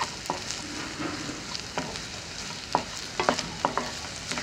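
Chopped onions and three to four chopped green chilies sizzle in oil in a pan while being stirred, with steady frying hiss broken by scraping strokes of a spoon that sharpen toward the end.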